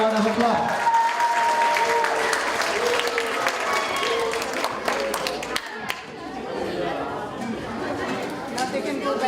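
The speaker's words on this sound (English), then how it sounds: "Please give them a big round of applause." Audience applause for prize winners at a youth festival, many hands clapping in a dense, loud burst over lively crowd chatter, continuing for several seconds before easing slightly.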